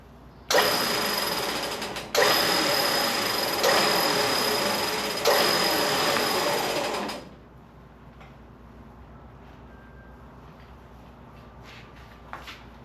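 An upgraded winch motor pulls in rope in three loud, whining bursts of a few seconds each, close by, then cuts off to quiet room noise with a faint click near the end.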